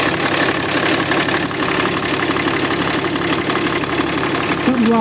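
A car engine idles close by with a faulty alternator pulley, giving a loud, steady running drone with a rhythmic knocking, rattling vibration underneath and a brief squeal near the end.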